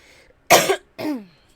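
Two short, sharp coughs, close and fairly loud, separated by a brief pause.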